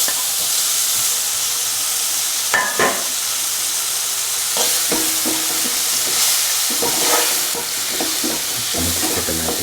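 Tomatoes sizzling and frying in a pan for restaurant-style dal fry with lentils, a constant loud hiss broken by scraping, clattering stirs of a spoon, with no voices.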